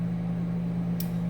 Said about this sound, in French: Désolée pour le bruit de four micro-ondes.